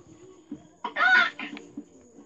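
Chicken clucking in a Minecraft game, a short burst of game-animal sound rising loudest in the middle of the clip, with a few softer clucks before and after.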